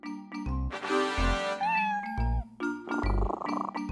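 A kitten meows several times in quick succession, clear and close, with short, rising and falling cries separated by brief pauses and some background thumps.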